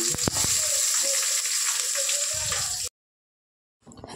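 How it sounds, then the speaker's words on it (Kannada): Onion drops into hot oil already seasoned with chili, garlic, crushed pepper and curry leaves, sending up a loud, crackling sizzle with a few sharp pops, then a sudden break into silence before the frying briefly returns. "ಇವಾಗ ಎಣ್ಣೆ ಕಾದಿದೆ, ಹಾಕ್ತಾ ಇದೀವಿ. ಏನು ಹಾಕ್ತಾ ಇದೆಯಾ? ಈರುಳ್ಳಿ."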